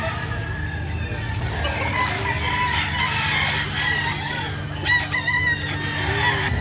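Roosters and young stags at a poultry market in Lipa, Batangas, crowing and clucking over a constant hum of background noise, with voices murmuring throughout.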